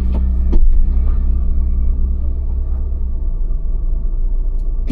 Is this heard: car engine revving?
yes